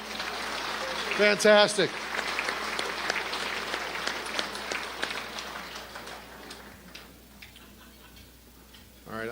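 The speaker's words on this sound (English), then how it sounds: "One more round of applause for Haley Hughes." Audience applause at a city's State of the City address, a dense wash of clapping from a crowd with a brief voice over it at the start, gradually thinning toward the end.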